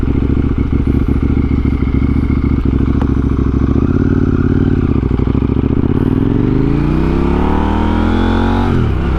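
KTM Duke 890R motorcycle engine revving hard for a wheelie, loud and close, with a rising pitch sweep as it accelerates toward the end; no talking.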